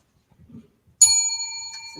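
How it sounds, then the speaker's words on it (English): A bell chimes once to signal the end of a timer countdown at an electoral candidates' forum, a bright ringing tone that sustains and fades over a second, preceded by faint murmuring voices. "when the countdown reaches 0, a bell will chime"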